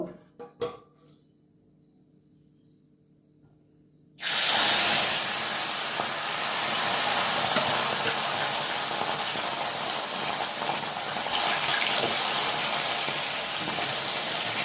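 Fish hits hot oil in a pan for a Bengali-style gule fish dish, bursting into a loud, steady sizzling hiss after a few seconds of near silence and a couple of small clinks, then frying continuously.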